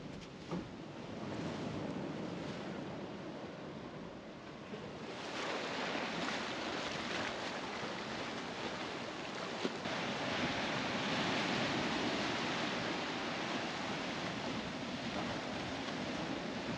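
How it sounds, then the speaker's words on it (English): Waves washing into rocky tide pools along a shoreline, a continuous rushing wash that swells and recedes, fairly close, with wind noise buffeting the microphone. "And then the waves wash in and like refill them."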